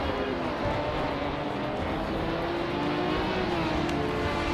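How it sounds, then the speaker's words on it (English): A 1966 Lamborghini Miura's engine roars continuously during a race, loud and close, with a sustained droning pitch that rises slightly as it pulls along. "Amy is currently in 4th place driving a 1966 Lamborghini Miura."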